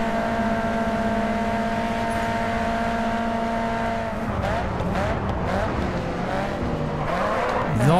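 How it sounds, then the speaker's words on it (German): A race car drifts through a stadium course in the racing game Grid 2, its loud sustained engine whine sweeping in pitch as the tires squeal and skid, with a German-speaking voice talking over it. "So, schön reindriften."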